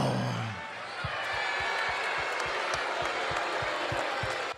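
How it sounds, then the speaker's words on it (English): Arena crowd at WWE Smackdown Live wrestling roaring and applauding in a continuous broad wash, with a steady rhythmic thumping pulse beneath the cheering throughout. "There were a lot of people cheering for this"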